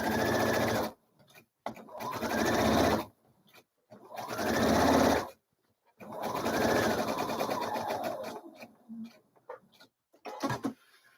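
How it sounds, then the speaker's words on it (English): Sewing machine stitching the underarm seam of a hoodie with a back tack at the start: several close bursts of fast mechanical whirring separated by short silences, ending with small scattered clicks and no talking. "So I always start at the underarm seam, and then I do back tack at the start so that it secures my starting stitch."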